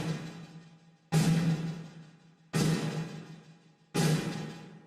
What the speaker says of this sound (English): I'm going to take the hi-hats and send them to the same gated reverb.